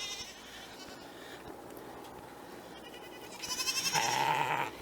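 Goats on a small family farm bleat from a short way off over a steady outdoor hum, with a louder, sustained bleat rising toward the end.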